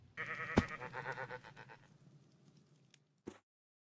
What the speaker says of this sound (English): But a giant sheep just arrived.